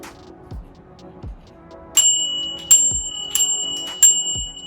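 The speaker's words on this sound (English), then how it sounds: "I'm going to put a bell on my mountain bike." A bicycle bell on a Vitus Sentier mountain bike rings in about five sharp, bright dings. Between the rings come soft low knocks, and no one speaks.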